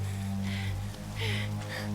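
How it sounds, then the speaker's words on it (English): Storm rain in the video game Tomb Raider, a steady close wash of falling water over a low constant game drone, with brief brighter bursts of splashing and no talking. "Take shelter from the storm."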